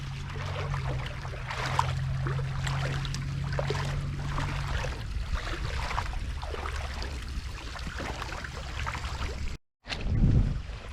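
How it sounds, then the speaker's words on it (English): A little waterfall spilling out of the woods into a city creek makes a continuous, fairly close rush and trickle of water, steady throughout, with a low hum fading out partway through and a brief cut near the end. "There's a little waterfall coming out of the woods."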